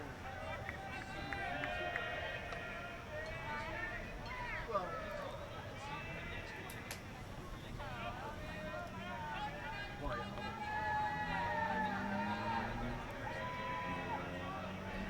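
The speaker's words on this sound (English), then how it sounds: "Illinois State dugout all up on the railing, making a lot of noise here, cheering their teams on" Illinois State players crowd the dugout railing at a college baseball game against Jacksonville, yelling and cheering in a steady din of voices, with a commentator talking over the noise.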